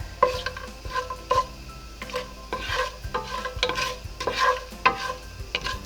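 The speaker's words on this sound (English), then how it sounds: "you can see they'll sizzle like this" Cumin and other spices sizzle and crackle steadily in hot oil for chicken pulao, with a few sharp stirring scrapes against the pan breaking through the hiss.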